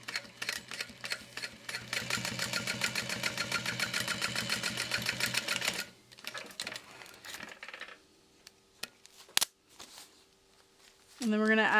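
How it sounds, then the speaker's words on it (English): A sewing machine top-stitches through two fabric layers in a fast, steady run of close mechanical stitching pulses for about six seconds, then stops, leaving quieter handling clicks and a brief sharp knock near the end. "And then we're going to top stitch through both layers."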